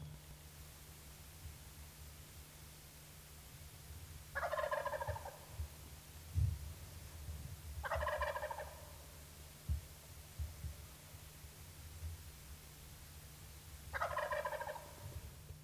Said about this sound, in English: He really gobbled well.